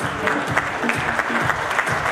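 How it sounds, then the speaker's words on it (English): A crowd at the Goa Fest 2018 business event applauds former South African cricketer Jonty Rhodes, loud, dense, close clapping sustained throughout, with a faint tonal voice or music underneath. "Please give him a rousing applause."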